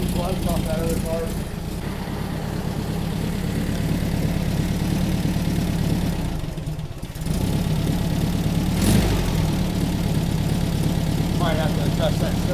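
A rebuilt air-cooled Volkswagen 40HP engine idles steadily just after its first start, a close, even rumble that continues under people talking nearby.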